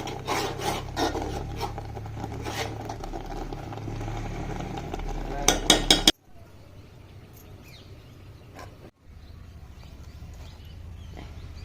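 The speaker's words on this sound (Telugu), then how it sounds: "ఇక దీన్ని మంచిగా రోట్లు వేసుకొని మెత్తగా నూరుకున్నాడు" Cooked sorrel leaves are ground in a stone mortar, giving repeated rough rubbing and scraping strokes that stop abruptly, leaving only a low hum and faint background noise.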